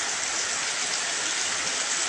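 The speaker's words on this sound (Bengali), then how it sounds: "বৃষ্টি দেখবেন" Steady rain falls in a dense, even hiss, constant and moderately loud throughout with no breaks.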